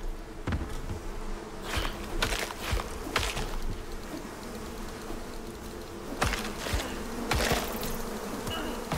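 Bees buzzing in the survival game ICARUS, a steady close insect drone with sharp clicks and taps of in-game actions cutting through at intervals.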